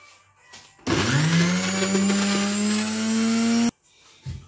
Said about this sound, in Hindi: अब इसे हमें अच्छी तरह से इसे ग्राइंड करेंगे।